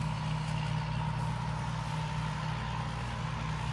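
A farm vehicle's engine putters steadily at idle in a rice field, a constant low rumble with no talk over it.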